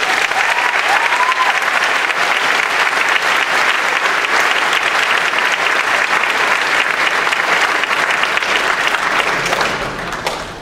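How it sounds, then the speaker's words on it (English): A large graduation crowd for a 2015 high school class gives teachers and staff a loud, sustained round of applause that fades near the end as a voice begins speaking. "So if we could please give them a round of applause."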